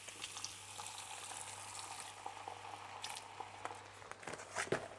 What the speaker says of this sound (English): We gonna deglaze with some white wine.